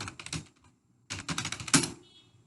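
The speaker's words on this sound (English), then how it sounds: "So I am typing a complaint like road broken, bad atmosphere." Rapid clattering keystrokes on a computer keyboard come in two bursts split by a short pause, close and fairly quiet, with no talking.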